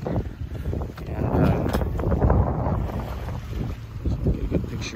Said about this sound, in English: Some nice wind here. Not too much. Light.